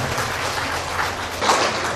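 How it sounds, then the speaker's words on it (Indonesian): Audience applause at a BKKBN East Java family-planning event in Bojonegoro, a steady dense wash of many hands clapping that swells slightly toward the end, loud and continuous with no talk. "boleh kasih tepuk tangan dong"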